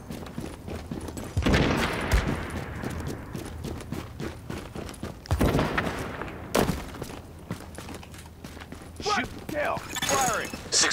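Rapid bursts of gunfire in The Division, set at Pier 93 and the Powerhouse, crack out in loud clusters with sharp transients, mixed with game sounds and shouted voices.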